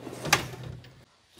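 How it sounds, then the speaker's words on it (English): A drawer slides open or shut on a Harbor Freight U.S. General Series 3 bottom tool box, a short metallic rolling scrape with a sharp clack, then quiet. "This is the last drawer."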